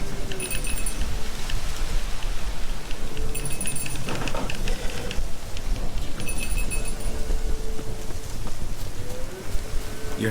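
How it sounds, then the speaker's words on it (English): Rain patters steadily in The Witcher 3, a dense, even wash of falling drops with some wind, while bright jingling accents come and go. "Looks like rain."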